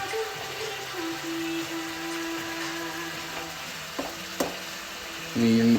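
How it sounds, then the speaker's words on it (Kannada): Onions fry in hot oil for avalakki, a steady soft sizzle with a low hum running through it, a couple of brief clinks near the end and a louder burst of frying at the close, no talk. "ಎಣ್ಣೆ ಇವಾಗ ಕಾಯ್ದ ಬರುತ್ತೆ. ಈರುಳ್ಳಿ ಒಂದು ಸ್ವಲ್ಪ ಗೋಲ್ಡನ್ ಬ್ರೌನಿ ಬರಬೇಕು."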